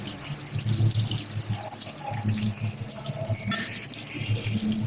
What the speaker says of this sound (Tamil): இப்போ தண்ணி சேர்த்துட்டேன்